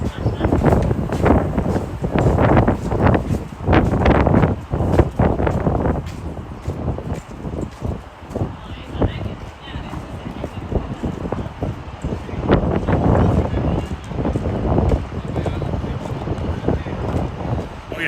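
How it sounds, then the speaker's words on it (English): Strong wind buffets the microphone in heavy, uneven gusts outside Rogers Centre in Toronto, roaring loudly throughout with brief lulls in the middle. "Oh yeah, super windy."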